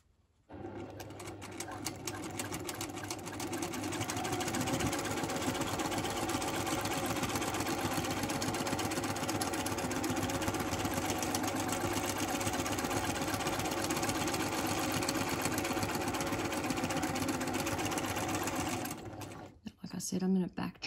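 A domestic sewing machine runs continuously during free-motion quilting across a grid block, giving a steady, close, rapid mechanical chatter and hum for most of the stretch before stopping near the end.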